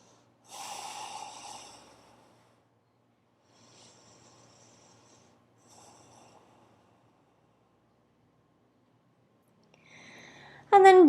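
Deep breathing during a yoga forward fold, a loud rush of breath near the start followed by two fainter, softer breaths, then quiet; a sharp rising tone cuts in at the very end.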